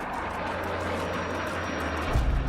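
Steady roar of a Sukhoi Su-35 fighter with twin Saturn AL-41F1S engines, a broad continuous rush that swells louder near the end, heard alone.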